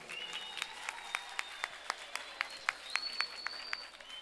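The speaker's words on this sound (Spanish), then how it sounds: "queremos un fuerte aplauso para todos ustedes" A school recital audience claps in scattered, distinct hand claps that stay modest in volume, while a faint tone drifts beneath.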